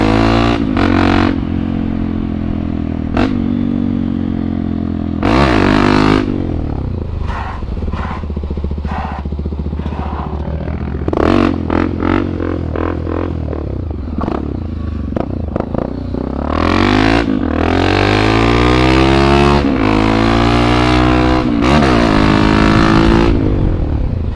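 A rabeta longtail boat engine is revved hard over and over, a loud, close, rasping roar that climbs and drops in pitch with rattling and clattering between bursts.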